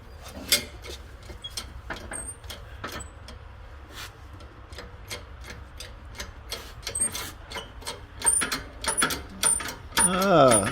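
A hydraulic press is pumped by hand to press in studs on an industrial press job, a string of sharp ratcheting clicks and metallic knocks that quickens toward the end, with a creak at the close and a voice briefly in the background.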